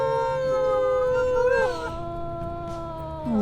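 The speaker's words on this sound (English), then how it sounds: "That sounds like our pack members actually howling, so we'll go ahead and howl back at them." Wolves in the video game WolfQuest give a long, clear howl with gliding pitch that rises and falls. Several voices layer together, and a second howl swells near the end.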